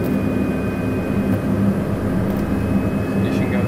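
Inside a Pilatus PC-12NG turboprop, a steady engine roar and broadband hum hold evenly throughout with a faint high whine, close and constant, as a voice talks over it.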